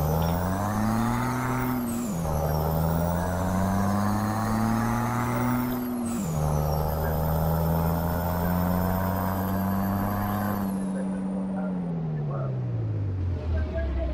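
A modded Kenworth Turbo truck engine in Euro Truck Simulator 2 drones loud and close, climbing in pitch through each gear and dropping at three shifts before it eases off and idles down.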